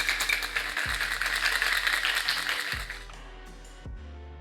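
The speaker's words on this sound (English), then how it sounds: "close it, and give the drink a shake" A whiskey sour is shaken hard with ice in a lidded cocktail shaker, giving a loud, dense rattle of ice against metal that runs continuously, then tapers off into a few lighter knocks.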